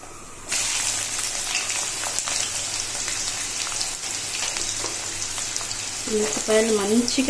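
Onions fry in hot oil with fennel seeds, cinnamon and cloves for a potato kurma. A loud crackling sizzle bursts in suddenly after a brief quiet start and continues evenly, with a faint voice-like murmur near the end.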